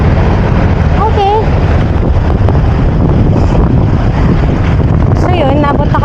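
Strong wind buffets the microphone during an outdoor bike ride, a loud continuous rumbling roar throughout, with brief bursts of a voice talking over it.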